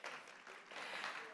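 Applause from a conference audience at a French plenary session welcomes a speaker to the stage, a dense, steady burst of clapping from many hands, heard alone.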